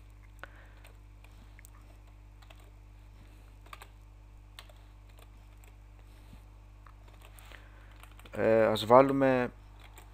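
A few sparse, faint key clicks on a computer keyboard, tapped while writing HTML text in a quiet room, before a brief spoken phrase near the end.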